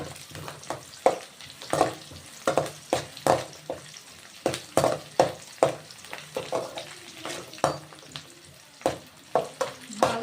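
Onions and curry leaves fry in a pan for cabbage fry, a steady sizzle broken by repeated sharp scraping strokes of a spatula stirring at an even rhythm, close and fairly loud, with no voices.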